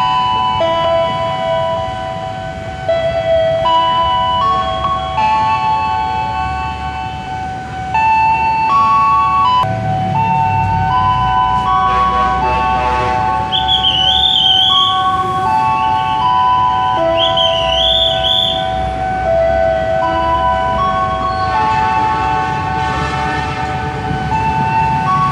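An express train rushes through Cakung station with a steady, loud rumble, while sustained horn-like tones and rising whistle notes ring out over it, with no talking.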